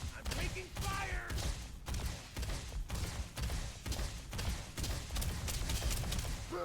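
Incoming gunfire in the Starfield video game, with energy shields being hit, plays as dense, continuous rapid shots and thuds. Music or ambient game sound runs underneath throughout.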